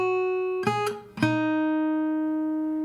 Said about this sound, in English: So the guitar solo starts like this.